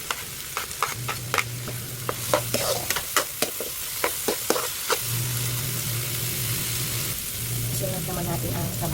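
Garlic and ginger sizzle in hot oil in a pan, a steady frying hiss broken by sharp scraping clicks of stirring, with a low hum in stretches.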